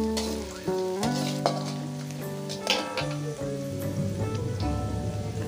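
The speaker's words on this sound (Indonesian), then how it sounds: "kemudian tumis bumbu irisnya. Ditumis sampai 2 bawangnya ini layu dan harum." Sliced shallots and garlic sizzle steadily in hot oil while being sautéed for fried noodles, a dense continuous crackle with occasional louder stirring clinks from a utensil against the pan, close and alone.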